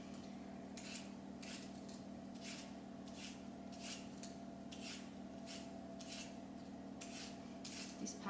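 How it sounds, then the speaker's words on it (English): Root vegetables such as parsnips being peeled, a series of soft, rhythmic scraping strokes repeating about every second against a steady low hum, fairly quiet and with no talking. "I'm just finishing off with the peeling of the veggies"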